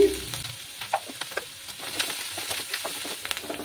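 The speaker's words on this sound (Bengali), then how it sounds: "পেঁয়াজগুলো ভালো করে ভেজে নেব।" Onions sizzle and fry steadily in a pan with slit green chilies and turmeric powder, with close crackling pops and occasional stirring scrapes, no talking.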